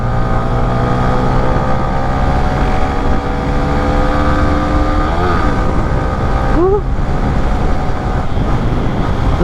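A 2023 Yamaha Sniper 155 motorcycle engine hums steadily while riding, its pitch rising and falling smoothly with throttle changes, with continuous wind and road noise throughout.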